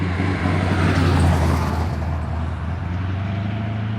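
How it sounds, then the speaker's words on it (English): A vehicle towing a trailer passes along a road through a small mountain town in Maggie Valley. The loud rolling roar swells to a peak early on, then slowly fades as it moves away. "Here comes a vehicle and a trailer."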